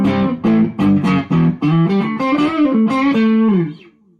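An electric guitar plays a short run of notes through a Flashback delay pedal on a clean tone, the tone thick and slightly repeating, ending in a fading tail.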